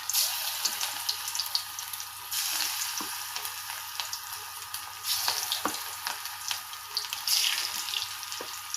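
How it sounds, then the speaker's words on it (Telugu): Small loose balls of corn pakoda batter sizzle in hot oil, a faint, even frying hiss broken by scattered crackles and pops, with no talking. "ఇందులో వేసేద్దాం ఆయిల్లో చిన్న చిన్న ఉండలు చేతడి చేసుకుంటూ పకోడీలాగా మరీ గట్టిగా నొక్కకుండా లూజ్గానే ఇలా వేసేద్దాం"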